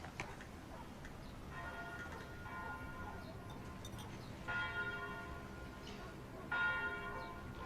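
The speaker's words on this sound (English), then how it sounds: "I like the bells. I like to hear that there is life waiting for us." Church bells ringing in the distance, several spaced tolls with ringing overtones rising out of a quiet room background, faint and unhurried.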